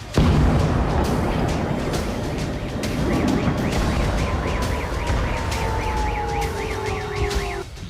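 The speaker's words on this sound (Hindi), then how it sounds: "बेलगोरोद के शेबेकिनो में कई धमाकों की आवाज सुनी गई" Explosions in Shebekino, Belgorod, with a dense, loud, continuous rumble and an air-raid siren wailing up and down over it, sustained throughout.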